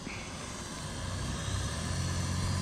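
A Sanrock X105W quadcopter drone, a Bugs 3 Pro clone, in flight, giving a steady broadband motor and propeller whir that grows slightly louder as it nears, with no talking.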